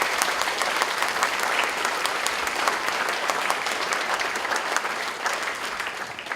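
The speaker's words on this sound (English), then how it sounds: "Could we please have a round of applause for all the music boosters?" A concert audience at a middle school spring choir and band concert applauds the music boosters with dense, continuous clapping that holds steady throughout and tapers slightly at the end.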